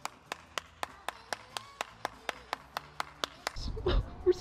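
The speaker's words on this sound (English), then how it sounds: "so everybody give him a round of applause" One person claps steadily about three times a second, sharp and close, then the clapping stops and a voice starts talking.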